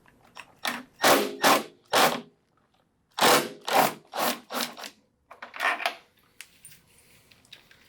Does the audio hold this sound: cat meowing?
no